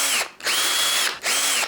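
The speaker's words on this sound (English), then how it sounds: "drill a little hole in here, and that's gonna drain the water." A handheld power drill bores a small drainage hole through a cheap plastic bird feeder base, whining in two long close bursts separated by a short pause, with no talking.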